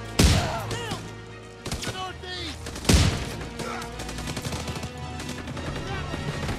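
Gunfire from a shotgun in the Call of Duty: WWII video game, with two loud, sharp blasts a few seconds apart followed by scattered clanking and battle noise, and no speech over it.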